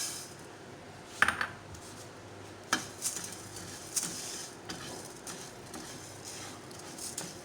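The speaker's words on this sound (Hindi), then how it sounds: "अब मैं साबुत धनिया भूनूंगी।" Whole coriander seeds dry roasting in a pan for homemade chaat masala, heard as a few sharp metallic clinks and scrapes of utensil against pan, fairly faint and spaced out over a quiet background.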